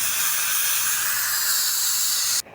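Pressure cooker on a clay stove cooking beef lets out a loud, steady steam whistle, a continuous bright hiss that holds for over two seconds and then cuts off abruptly.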